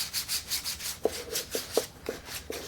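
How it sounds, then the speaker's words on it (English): Hand sanding a wooden edge with medium sandpaper, rhythmic back-and-forth scratchy strokes, close and fairly quiet, with a few sharper knocks as the block reaches the corners. "I'm now going to take a piece of medium sandpaper and soften the edges."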